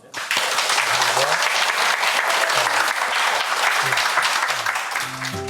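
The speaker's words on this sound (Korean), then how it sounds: "이시영 박사님의 강의 그럼 박수로 듣겠습니다" Loud, sustained audience applause welcoming a lecturer onto a happiness talk show stage, a dense continuous wash of clapping from a large crowd, with a brief low vocal sound beneath it.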